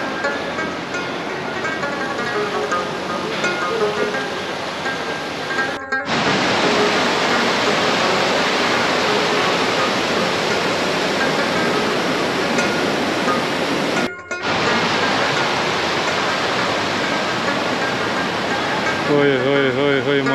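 Stream water rushing along the path to the Twins waterfall near Sajikot, Havelian, Abbottabad, a dense, loud, unbroken roar close by, briefly cut twice and carrying faint voices at the start and end.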